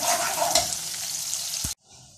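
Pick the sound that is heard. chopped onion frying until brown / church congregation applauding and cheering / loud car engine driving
chopped onion frying until brown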